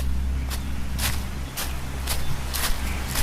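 Steady footsteps walking at an even pace, each step a soft crunch over a low continuous rumble, on a path of soil and storm-fallen leaves, with no voices.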